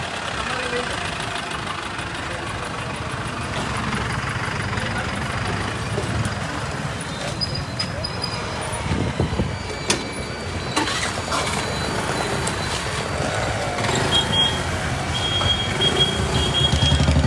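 A tow crane truck sits idling with a continuous, fairly loud engine rumble. Faint high-pitched beeps come in intermittently, and the sound carries the open feel of a street.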